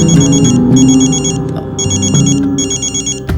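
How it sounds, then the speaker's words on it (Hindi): A phone ringtone sounds for an incoming call, loud and close, in repeated bursts of a bright electronic melody with short gaps between them over a low musical background. "नैना का फोन है, मुझे पता था ये फोन करेगी मुझे।"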